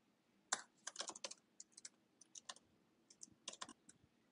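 Code being typed on a computer keyboard: quick irregular clusters of light key clicks, close and fairly quiet, with short pauses between bursts and no talking.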